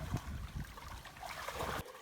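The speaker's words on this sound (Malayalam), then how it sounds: "ഈ ചെയ്യുന്നത് വെള്ളം നന്നായിട്ട് കലക്കുകയാണ്" Water in a small stream being stirred and churned up by hand, a close, steady sloshing and gurgling with a few heavier splashes, heard alone without talk.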